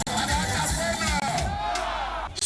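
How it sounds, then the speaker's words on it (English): A large crowd of supporters roars and chants at a governor's campaign rally in Neni, Anaocha area, a loud, dense wall of voices that stays constant throughout. "Speaking to a large crowd of supporters at the rally"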